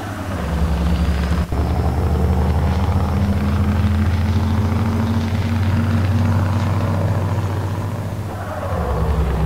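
Deep, constant engine rumble from a truck in Euro Truck Simulator 2, a close, even drone with a steady low hum that dips briefly near the end.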